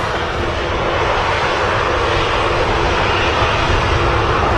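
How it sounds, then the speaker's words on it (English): Airliners at Manchester Airport fill the air with a loud, continuous roar of jet engines, broad and unbroken, without any rise or fall. "Ryanair is now lined up and ready for departure"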